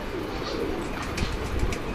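Pigeons at a loft coo in low, soft murmurs, several birds overlapping close by against a continuous background hum.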